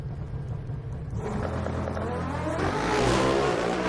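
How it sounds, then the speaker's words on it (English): Pro Stock drag-racing motorcycles launch at the NHRA Southern Nationals with a steady roar of engines that swells into a louder rising rev, heard continuously without any talk. "We also heard Arana's bike stumble out of the gate."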